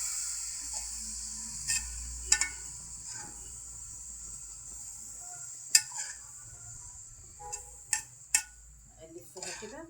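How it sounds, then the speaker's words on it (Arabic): Spinach and onions stirred in a metal cooking pot, with scattered clinks and scrapes of a spoon against the pot's sides, a few sharper knocks standing out over a quiet kitchen hum. "اقلبها كده اهو، اقلب في الحله كده واقلبها"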